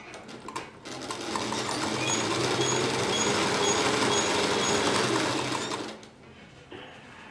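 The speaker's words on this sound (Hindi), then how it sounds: "यहाँ पे फोल्ड करते हुए हम सीधा सिलाई लगाएंगे।" Close up, a sewing machine runs a straight stitch along a folded edge of fabric, one steady continuous whirring burst of about five seconds with a few light clicks before and after.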